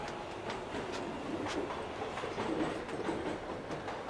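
A train running on rails, a steady rumbling roll with faint rhythmic clatter from the wheels, continuous and moderately distant throughout, with no voices.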